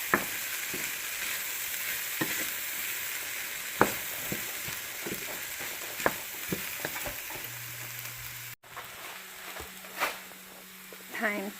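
Vegetables for vegan fried rice sizzle steadily in a pan while being stirred, a constant frying hiss dotted with frequent scraping clicks of the utensil, close by, with a brief hum near the end.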